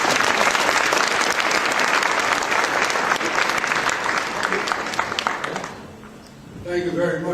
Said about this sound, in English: Let's one more round of applause for Mayor.